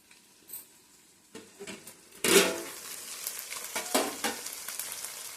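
Fish frying in a covered pan, a quiet start giving way to a sudden louder burst of sizzling and spattering that keeps crackling with intermittent pops up close.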